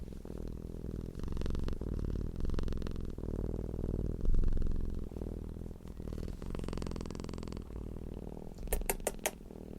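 A domestic cat purrs with a deep, continuous humming rumble for the whole stretch, close and steady, its pulsing broken near the end by a few sharp clicks.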